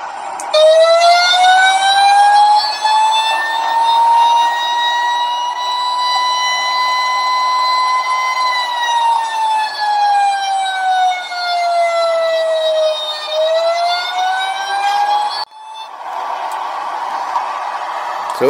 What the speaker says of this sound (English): and a siren as well for fire trucks.